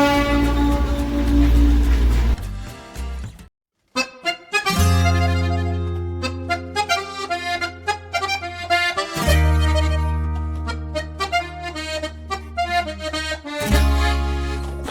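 A Darjeeling toy train sounds repeated long, loud tonal horn blasts, with brief pauses between them and a short silent gap early on.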